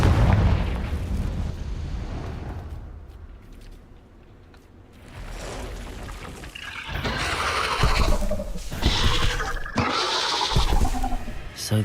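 A Confringo spell explodes in the Hogwarts Legacy video game, loud booming blasts and rushing debris rising after a quieter stretch, with game sounds rumbling throughout.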